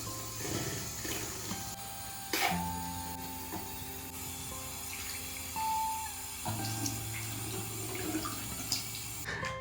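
Tap water runs steadily into a bathroom sink while a child brushes teeth. A moderate, continuous splashing stream is broken by a few clunks and small shifts in the flow, with no clear talking.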